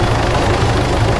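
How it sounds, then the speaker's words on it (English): An inbound helicopter in ARMA 3, a loud, steady rotor drone with a deep rhythmic thump, close and continuous, with no speech over it. "We've got a chopper inbound, yo."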